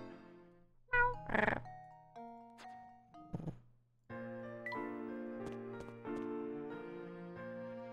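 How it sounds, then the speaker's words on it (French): A cat meows once amid soft game-like tones and thumps in the video game Professor Layton and the Spectre's Call, followed by sustained electronic music notes and light clicks. "Miaou."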